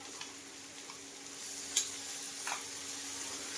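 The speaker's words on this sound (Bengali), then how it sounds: "এখানে আদা রসুন একসাথে বেটে নিয়েছি এটা দিয়ে দেবো" Ground ginger and garlic paste frying with lightly browned onions, a soft steady sizzle with a couple of faint utensil clicks, fairly quiet and close.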